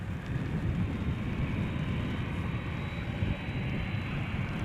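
A KLM Boeing 787-10 Dreamliner jet departing in snow at Amsterdam Schiphol Airport, a steady broad engine roar at moderate distance, with no talking.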